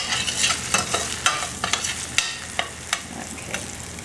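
Eggplant with garlic and pepperoncino fries in a pan, a soft steady sizzle broken by a series of sharp scraping strokes as it is stirred, close and alone.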